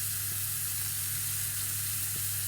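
Butter sizzling in a hot pan alongside a searing steak, a dense, steady frying hiss heard up close and loud throughout, with no voices over it.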